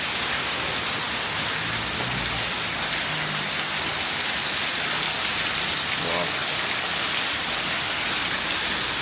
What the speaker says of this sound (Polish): ogólnie to tak leje, że świata nie widać